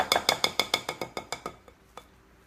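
Rapid metallic clinks of a whisk against a bowl while stirring melted coconut oil during grain-free cooking, about a dozen quick sharp taps in a steady rhythm that slow and fade toward the end, close and alone.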